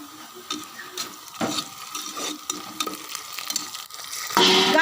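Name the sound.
sautéing onions with coconut paste in a pan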